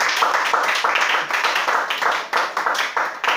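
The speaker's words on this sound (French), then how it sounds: "Si tu es content, acclamez Seigneur Jésus." Church congregation clapping in rhythm to acclaim Jesus, steady brisk handclaps from many people close by, loud and unbroken with no speech.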